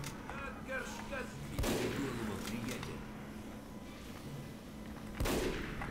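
Gunfire in the video game Team Fortress 2, with sharp broadband shot transients around 1.6 s and again near 5.2 s over steady game noise and scattered effects, with no talk.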